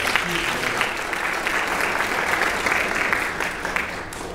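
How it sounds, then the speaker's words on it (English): Steady, dense applause from an audience at a U.S. Small Business Administration event, loud and even throughout with a faint murmur of crowd voices underneath. "Lynn, how about one more round of applause for Lynn?"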